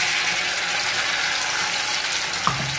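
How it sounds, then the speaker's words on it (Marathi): Water pours into a hot kadai holding fried ginger and garlic, giving a steady rushing splash with a faint hiss and a small clink near the end, close and unaccompanied by talk. "थोडंसं भांडं धुवून पाणी टाकायचंय."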